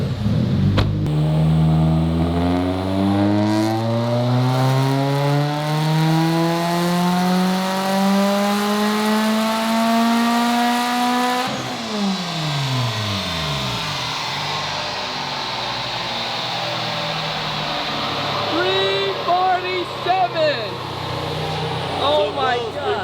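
A turbocharged Subaru BRZ engine on a dyno climbs steadily in a loud, rising rev toward 7,600 RPM, then drops off abruptly and settles to a rumbling idle with exhaust crackles, while people talk over it.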